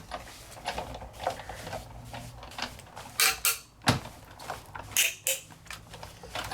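A die-cutting machine creaks and cracks as it rolls a mat through its cutting dies. Uneven squeaks and sharper snaps sound close and moderately quiet over a low mechanical rumble.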